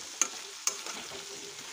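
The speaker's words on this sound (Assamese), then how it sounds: "আমি এইখিনি ভাজি ল'ম।" Chicken pieces with small potatoes fry in a wok, a bright steady sizzle broken by two sharp stirring clinks of a utensil near the start, heard up close.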